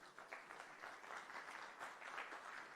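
A crowd claps steadily, a dense patter of applause at moderate distance with no pauses.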